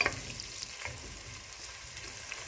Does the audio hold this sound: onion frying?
yes